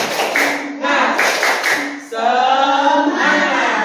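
Schoolchildren perform a rhythmic spirit clap, sharp bursts of clapping from many small hands in short patterned groups, with the children's voices chanting along between and over the claps, close and loud.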